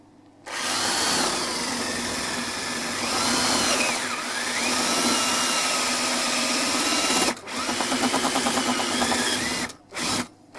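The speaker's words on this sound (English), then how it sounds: "I think this drill bit's a bit sharp for this." Power drill boring a hole in wood during a handmade wooden keyboard build, a steady loud whirring grind that runs for several seconds, briefly breaks off, then resumes in short stuttering bursts.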